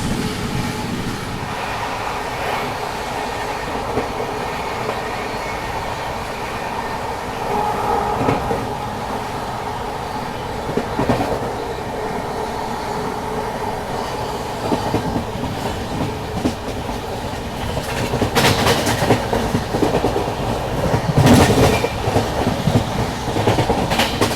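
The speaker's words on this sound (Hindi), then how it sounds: "लखनऊ स्वर्ण शताब्दी एक्सप्रेस" Lucknow Swarna Shatabdi Express passing on the rails with a steady rumble and clickety-clack of wheels, loud and continuous, with brief sharper squeals and bangs near the end.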